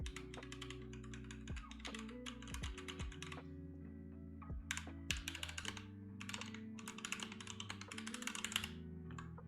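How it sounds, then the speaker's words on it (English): Keyboard fitted with PBT doubleshot keycaps being typed on, with bursts of crisp, close keystroke clicks separated by brief pauses and a low tonal hum underneath. "those are all like here our PBT-Doubleshoot keycaps. So let's give it a try."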